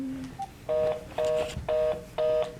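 Touch-tone beeps sound on a telephone being dialed before a speakerphone call: four evenly spaced, clear tones, each about a quarter second long, close and distinct against quiet room noise.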